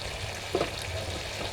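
A vegetable dish cooking in a pan, a steady soft sizzle and frying hiss with a brief stir or clink partway through, with no voices.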